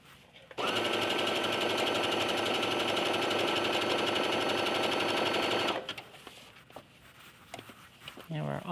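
Sewing machine stitching fabric, a loud close steady whir running unbroken for about five seconds, then stopping and leaving quiet handling noises.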